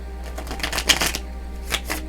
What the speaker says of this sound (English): let's pull some tarot cards on this situation.